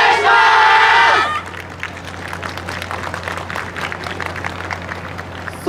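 An outdoor crowd clapping along to a dance team's performance on the Bentenyama stage at a 2023 festival, loud music at first, then a dense patter of rhythmic handclaps and crowd noise.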